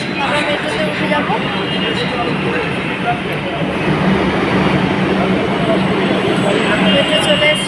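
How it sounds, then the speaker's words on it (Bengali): A metro train pulls into a station with a loud, steady rumble and rolling rail noise that builds slightly over several seconds while people talk nearby. "মেট্রো চলে এসছে, আমরা মেট্রোতে উঠে যাবো।"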